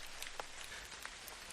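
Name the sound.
rain getting heavier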